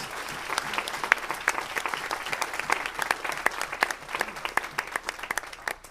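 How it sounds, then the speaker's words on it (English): A council meeting audience gives a round of applause, dense clapping from many people with distinct sharp claps standing out near the front, fairly loud and sustained, fading slightly toward the end. "So if we could give that a round of applause."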